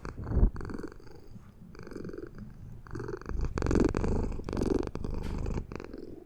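A cat purrs close up in a steady, rumbling rhythm, the low vibrating pulses swelling and fading with each breath over several seconds, fairly loud against a quiet room.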